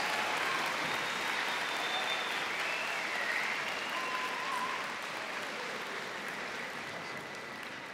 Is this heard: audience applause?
yes